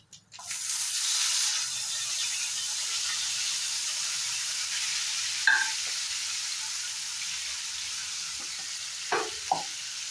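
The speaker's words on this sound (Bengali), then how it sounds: "এই তেলের মধ্যে কেটে রাখা টমেটোটা আর কাঁচা লঙ্কাটা দিয়ে দেব।" Chopped tomato and green chilies frying in hot oil in a pan, a steady close sizzle with a loud initial hiss that settles into continuous crackling, with a few brief clinks of a utensil near the end.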